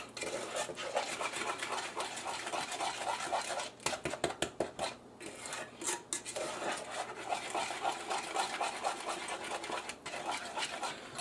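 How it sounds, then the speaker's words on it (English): Sauce for apple rub ribs is stirred in a pot over low heat, a spoon scraping and clinking against the pot in a steady, close, continuous rhythm with a few sharper knocks partway through. "I'm going to continue to stir this, and I'll be back after I get it to a little low simmer"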